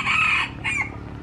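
A rooster crows loudly and close by in a farmyard with other roosters roosting in a tree, a strained two-part call cut short after about a second, with no talk over it.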